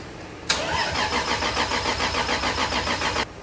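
A Toyota Supra engine cranks steadily for about three seconds with a rapid, even rhythmic churn, close and loud, trying to start but not catching before it stops.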